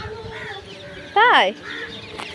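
A rooster or hen clucks loudly in a short burst amid ongoing bird calls on a rooftop, with a child-directed voice speaking briefly nearby.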